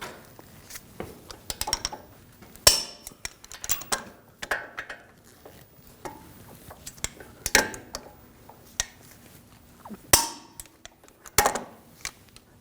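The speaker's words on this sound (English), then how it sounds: "Now torque these bolts to 147 foot-pounds" Wheel hub bolts on a 2006-2009 Audi S4 being torqued during a front wheel bearing and hub replacement, heard as scattered metallic clicks, clanks and ratchet taps in irregular bursts, close and fairly loud, with no talking.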